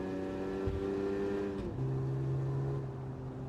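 A Toyota Land Cruiser on comfort tires in a racing video game gives a smooth, moderately loud engine drone, with the pitch dropping sharply midway as it shifts or slows.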